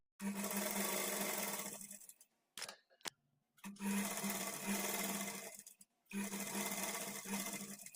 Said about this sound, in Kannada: ಇದ್ರ ಮೇಲೇ ಡಬಲ್ ಸ್ಟಿಚ್ ಹಾಕ್ಕೊಳ್ತಾ ಬರಬೇಕು.